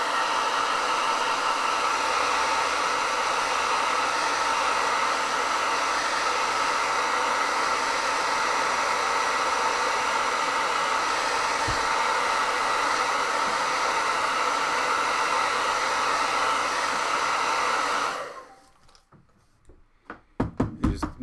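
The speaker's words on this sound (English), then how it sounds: "if I hit it with the hair dryer, it just kind of dries it" A hair dryer blows steadily on freshly glued collage paper, a loud continuous whoosh for about eighteen seconds before it switches off, followed by a few light taps and knocks.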